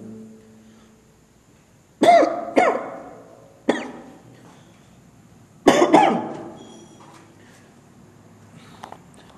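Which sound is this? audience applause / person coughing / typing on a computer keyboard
person coughing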